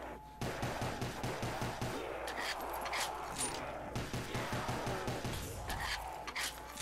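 Rapid automatic gunfire rattles almost nonstop in a zombies video game, dense bursts of shots with brief pauses, close and loud, with a faint voice occasionally underneath.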